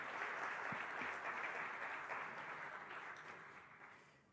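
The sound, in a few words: audience applause for the mayor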